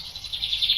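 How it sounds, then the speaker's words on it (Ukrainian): Birds sing in a quiet summer forest, a steady run of high, rapid chirping notes that grows slightly louder over a brief moment, with no talking. "Птахи співають, листя шепочеться."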